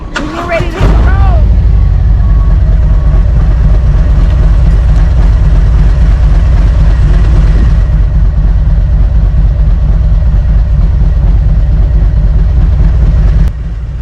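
A Harley-Davidson Road Glide motorcycle engine runs loud and close. After a short start at the beginning, a deep, steady low rumble holds for over twelve seconds before cutting off near the end.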